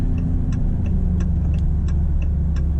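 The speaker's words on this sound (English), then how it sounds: "we'll go on the highway here, do a little bit of acceleration onto the highway" A 2025 Maserati GranCabrio Trofeo accelerates onto a highway, heard from inside the cabin as a steady, loud low engine and road rumble. Faint regular ticking runs over it, with no talk.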